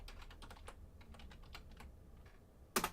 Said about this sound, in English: Typing out my code for these guys.